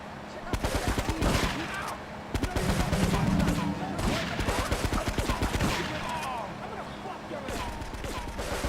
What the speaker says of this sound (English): Someone's shooting at me from somewhere.